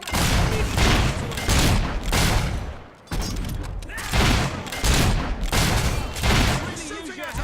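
Explosions as a mortar is destroyed in the fantasy action game Fable III, a series of loud, close blasts and rumbling booms under brief talk.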